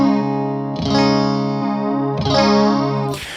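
Electric guitar played through a Boss chorus pedal, sustained chords with a shimmering, warbling effect, struck twice about 1.5 seconds apart and ringing out before a brief noisy cutoff.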